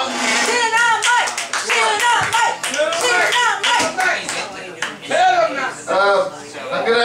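A handful of audience members clap for a performer introduced on stage at a small live show, the scattered claps mixed with loud, excited talking and chuckling close by.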